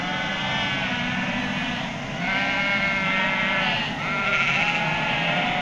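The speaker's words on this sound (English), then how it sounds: "Millions of sheep." A huge flock of sheep being moved along a campsite at Lake Hāwea near Wanaka, Otago, bleating constantly in an overlapping chorus of many voices, loud and close, swelling and fading in waves.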